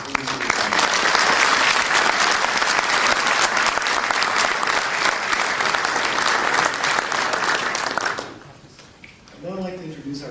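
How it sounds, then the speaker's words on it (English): An audience at an engineering design conference applauds students, faculty and industry advisors with dense, sustained clapping for about eight seconds before it dies away and a voice begins speaking. "please join me in a round of applause for recognizing the efforts of our students"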